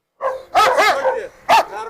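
A large dog held on a leash barks in three loud, close bursts, two quick barks followed by a longer run of barking and one final sharp bark.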